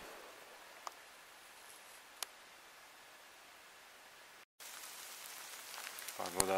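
Soft, steady hiss of winter rain falling outdoors, with a few faint ticks and a brief dropout, then the patter grows louder near the end.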